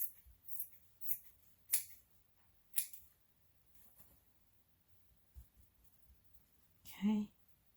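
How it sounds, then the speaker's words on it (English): Scissors cut through the denim of ripped jeans in several quiet, crisp snips spaced irregularly, close by in an otherwise hushed room, with a faint vocal sound near the end. "And I am going to cut it again."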